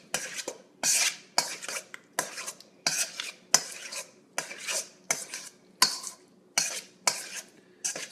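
Tuna poke tossed in a bowl with utensils: about a dozen evenly spaced scraping, clinking strokes in a steady rhythm, close and fairly loud, with no talking.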